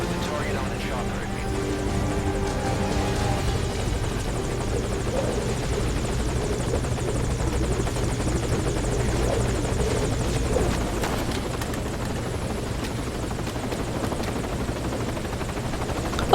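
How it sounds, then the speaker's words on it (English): Helicopter hovering at a landing zone in the Metal Gear video game, a steady, loud rotor drone with a low thumping pulse running throughout, occasional faint voices under it. "Put the target on the chopper."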